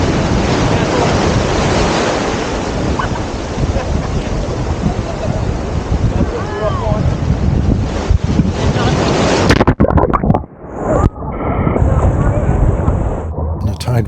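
Sea waves washing onto the shore at Mablethorpe on the Lincolnshire coast as the tide comes in, a loud continuous rushing surf mixed with wind buffeting the microphone, cutting out briefly near the end.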